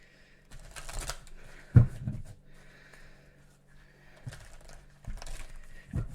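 Oracle cards being shuffled by hand during a reading, giving soft papery riffles and flutters in a few short bursts with quiet gaps between, close and fairly faint.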